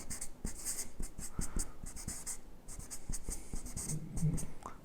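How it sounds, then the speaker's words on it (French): Pen writing by hand in a small notebook at a desk, a steady run of soft scratching strokes with brief pauses, close and fairly quiet, with no talking. "Je vais écrire ici."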